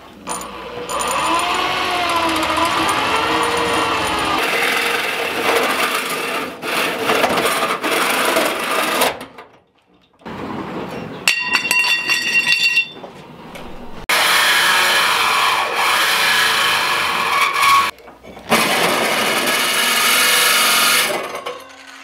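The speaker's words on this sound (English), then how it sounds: "So I'm gonna go ahead and start cutting this up with this hole saw." Power drill driving a hole saw through welded metal, a loud sustained grinding whine broken by brief stops and restarts, with some scraping bites as the cut catches.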